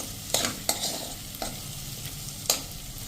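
Peas and carrots for a sorghum pulav sizzle steadily in a pan while a spoon stirs them, with a few sharp scraping strokes over the constant close frying hiss.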